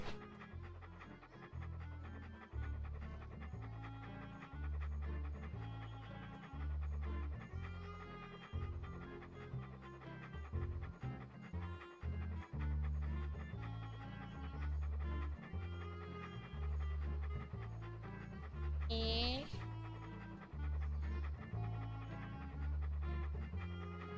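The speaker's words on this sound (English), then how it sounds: "What a ferocious looking dog." A ferocious-looking dog in the Monkey Island 2 video game pants in a steady looping rhythm over game music, loud and continuous, with a brief rising chime partway through.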